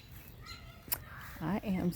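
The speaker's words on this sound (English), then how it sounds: "Y'all hear the birds chirping?" Birds call faintly outdoors as rain approaches, a few soft cries over a quiet background, with a voice speaking close by near the end.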